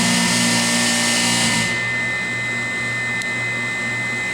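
Vacuum pump on an MBraun MB150B/G-1 glove box running via foot pedal, a loud steady mechanical hum with tonal whine that drops in intensity partway, no voices.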